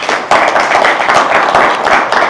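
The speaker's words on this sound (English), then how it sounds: "So a round of applause." Audience applause at a live conversation event with a pharmaceutical executive: dense, loud clapping from a room of hands, steady and close throughout with no talk over it.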